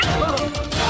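A dog seized by a constrictor snake gives loud, harsh barks and yelps mixed with crashing noise, all heard through tinny, compressed video playback.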